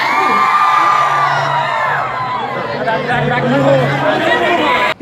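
A loud crowd at a shopping mall launch event in Kakinada cheers, shouts and whoops continuously, a dense roar of many voices with excited chatter and yells throughout, close and energetic.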